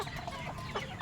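A flock of chickens feeding on leaves outdoors clucks steadily through one second, with busy, overlapping calls close by.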